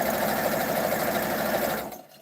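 A sewing machine runs at speed with a close, fast, even mechanical whir and chatter, then winds down and stops near the end.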